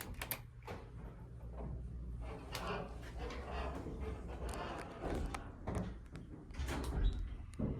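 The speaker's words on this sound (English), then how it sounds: "Door is very slow." A Dover Impulse hydraulic elevator door at a hotel slides slowly along its track with a low rumbling and scattered mechanical clunks, fairly close, no talking over it.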